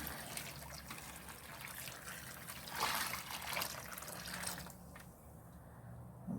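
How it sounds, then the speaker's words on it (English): Warm, not quite boiling water pours and trickles steadily into a container of tarnished vintage flatware at low volume, with a faint splashing swell midway before it tapers off. "it's time to pour in our boiling, or not quite boiling water."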